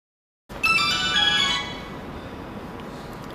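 A telephone rings at a social taxi dispatch service, an electronic ringtone bursting in after a brief silence, trilling loudly for about a second, then fading into steady background hiss.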